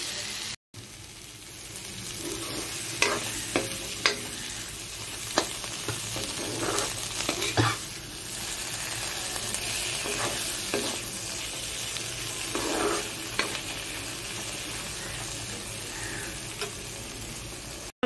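Eggplant and dried fish fry together in a pan with a constant sizzling hiss, broken now and then by stirring scrapes and light clicks, close and moderately loud.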